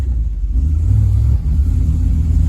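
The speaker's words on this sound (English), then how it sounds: "We've got some V8 action." A V8 engine in an old, long-abandoned Chevrolet Suburban revs up briefly in a steady low rumble, swelling then dipping for a moment before settling again, heard alone without talk.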